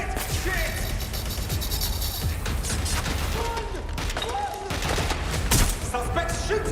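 A suspect firing a gun in Watch Dogs Legion: scattered shots and mechanical clatter inside a busy, loud game soundscape, with voices shouting over it.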